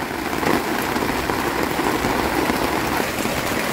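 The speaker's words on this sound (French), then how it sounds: "Ça pleut, c'est l'orage." Steady thunderstorm rain pours down in a continuous broadband hiss, heavy and close, with no voices and no distinct thunder claps standing out.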